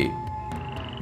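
A frog croaks in a short burst, a close, steady call with a tonal buzz over a quiet background.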